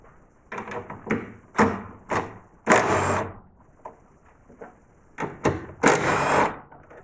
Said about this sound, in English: we're going to start by removing the 13mm bolts that secure the carbon brace